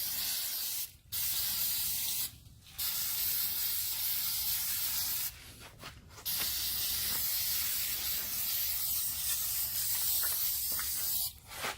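Rust converter is sprayed from a can inside the driver's door of a 1955 Chevy truck, a loud, close, steady aerosol hiss in long bursts broken by a few brief pauses.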